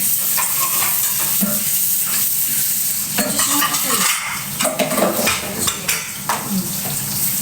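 Fish frying in a pan gives a continuous loud sizzle and crackle, with utensils stirring and clinking against the pan throughout.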